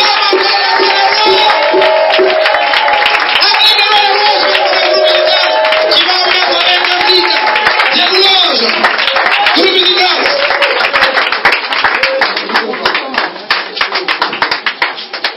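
A church congregation claps and cheers loudly in praise of the Lord, dense rhythmic handclaps over a roar of voices and shouting that thins slightly near the end.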